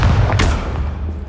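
A Bombarda spell blast in Hogwarts Legacy, a short booming thud at the start that fades into a low rumbling tail, loud and close.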